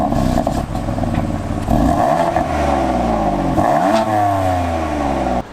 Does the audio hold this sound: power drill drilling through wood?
no